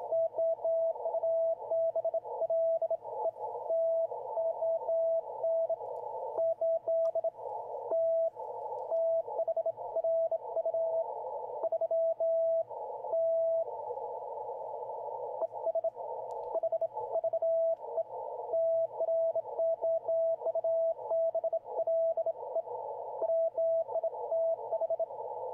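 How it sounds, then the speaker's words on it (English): A Yaesu FT-710 receives CW Morse code sent with a bug key, giving a long run of fast, continuous dit-dah tone keying over steady radio hiss, with no voices present. "Sound like somebody's working a bug."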